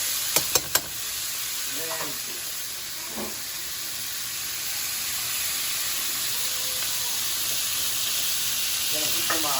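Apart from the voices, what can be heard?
vegetables sizzling with short ribs in the pan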